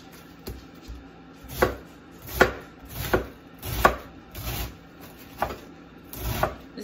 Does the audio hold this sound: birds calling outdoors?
no